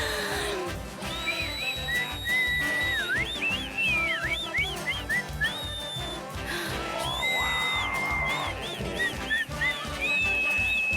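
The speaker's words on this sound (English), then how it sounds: "What were you doing with all that whistling?" Someone whistles a bright, wandering melody over a steady rhythmic musical backing in a cartoon, with no talking.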